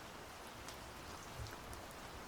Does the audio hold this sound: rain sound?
yes